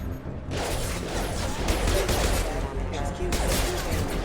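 Heavy gunfire from a Mass Effect 2 firefight, blasts overlapping in a dense, loud barrage for several seconds with battle noise and voices mixed in.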